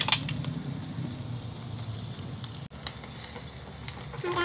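Garlic sizzles steadily as it fries in oil in a pan, an early step in cooking dinuguan, with a continuous close crackling hiss and a few faint utensil clinks.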